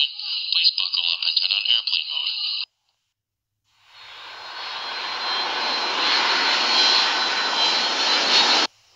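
Airplane engine drone in an animated cartoon, a steady loud roar that fades in after a short silence and holds before cutting off, following a brief electronic beeping passage.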